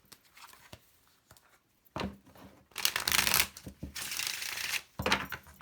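A deck of tarot cards is shuffled: a few light taps and riffles, then bursts of loud flapping card riffles in quick succession, close by and alone.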